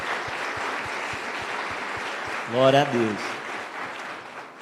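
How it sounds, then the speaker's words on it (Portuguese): Church congregation applauding together in a steady, dense wash of clapping, with one voice briefly calling out praise over it partway through. "Então vamos dar mais um aplauso ao Senhor Jesus."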